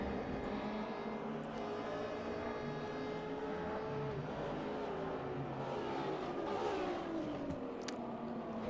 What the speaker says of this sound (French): On continue la progression sur cette piste de Spa depuis le capot de la magnifique BMW de Binam